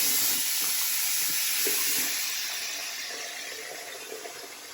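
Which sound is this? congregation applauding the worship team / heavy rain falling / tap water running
tap water running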